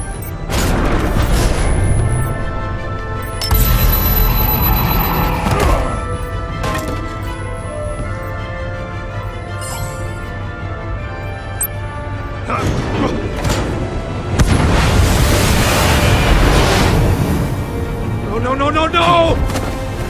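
A missile blast in Batman: The Enemy Within erupts as a loud, broad burst of rumble and debris crash, with further booming impacts amid dense game music and effects, while characters speak over the scene.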